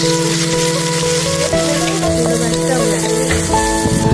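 Karen curry paste made with chili, garlic, shallot, lemongrass, shrimp paste and fermented fish sizzles loudly in a hot pan, a steady close frying hiss with faint stirring underneath.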